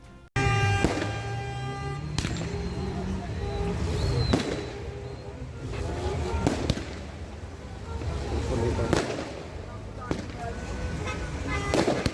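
Fireworks burst near a roundabout, with a series of sharp cracks and booms spread irregularly over a steady roar of traffic and street noise, fairly loud and close.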